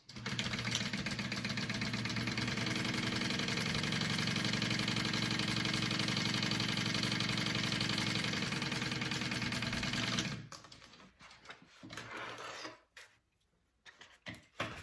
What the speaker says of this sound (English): I'm gonna top stitch this first